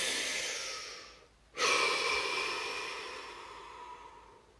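One person takes a slow, deep breath, a soft airy inhale that fades, then a sharp intake followed by a long, gradually fading exhale, close and quiet with no talking.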